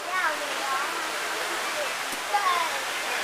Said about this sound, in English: I've never had seen it pouring down rain during the daytime like this